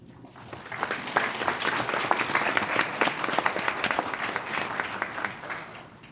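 An audience at a police academy graduation ceremony applauds, a dense sustained wash of clapping from a large crowd that holds steady for several seconds before tapering slightly.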